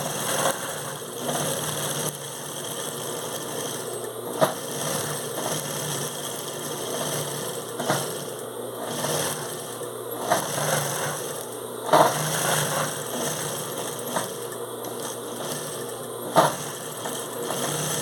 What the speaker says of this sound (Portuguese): vou prender o meu forro. E vou passar uma costurinha bem estreitinha.